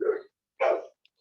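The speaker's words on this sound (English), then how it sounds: "I hope you can still hear me because the dogs outside getting on very bad." Two sharp dog barks ring out a moment apart, fairly close outdoors, with brief silence between and no talking.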